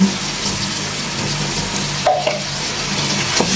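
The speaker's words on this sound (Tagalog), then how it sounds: "ilalagay ko na itong aking blend na tomato" Blended tomatoes, three of them, hit a hot frying pan and set off a loud, close sizzle, with stirring and scraping and a brief spatter near the middle of the burst.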